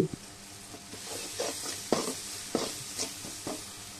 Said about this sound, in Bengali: আর একটু ভালো করে নেড়ে চেড়ে একটু কষিয়ে নেব